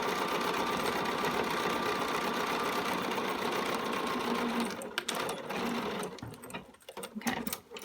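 A sewing machine top-stitching a pocket facing on homemade denim jeans runs in a steady, loud mechanical whir for several seconds. It then stops, leaving scattered handling clicks and rustles up close.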